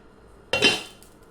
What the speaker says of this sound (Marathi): त्याच्यावर आपण झाकण ठेवूया